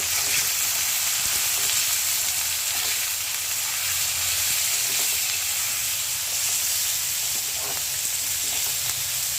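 Beans sizzle in a hot pan with turmeric and salt, giving a steady, loud frying hiss with faint scraping of a stirring utensil, close and without speech.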